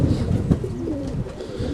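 A racing homer pigeon coos in low, rolling throaty phrases, close and steady through the whole stretch with no talk over it.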